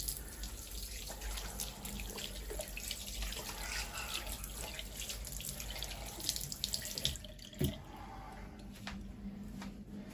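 Tap water runs into a sink while hands are washed with bar soap, a faint steady splashing stream with small drips and rubbing noises, close by and without talk.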